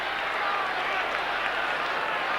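A football crowd at a 1990 North Melbourne versus Collingwood match cheers and applauds, a broad, steady roar of massed voices and clapping that holds evenly throughout.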